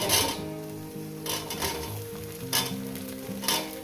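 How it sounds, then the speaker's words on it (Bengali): Green chilies and onion frying in a pan, giving a steady close sizzle with soft stirring scrapes every half second or so, no voices. "দিয়ে আমি দু মিনিট ভেজে নেব"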